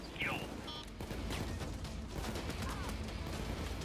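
Rapid gunfire bursts in Payday 2 as shots are aimed at a canister, dense repeated cracks over game noise with a voice talking throughout.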